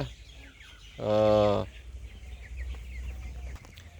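A chicken kept at a family home gives one loud, clear call in the middle, with faint rustling and background noise before and after.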